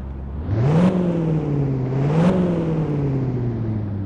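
A truck hauling a camper trailer in Truck & Logistics Simulator revs its engine in two rising and falling surges, a steady droning tone that stays close and loud with no talking.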